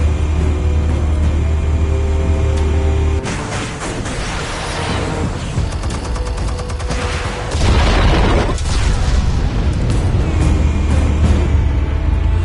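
Explosives detonating in a video game: heavy booming blasts that rumble loudly through the middle of the stretch, over a constant low mechanical drone.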